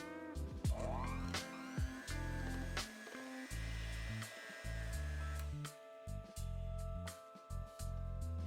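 An electric hand mixer whirs through cream cheese, sugar and flour in a bowl. It makes a close, buzzing motor drone in several bursts with brief pauses between them, and its pitch shifts slightly as the load changes.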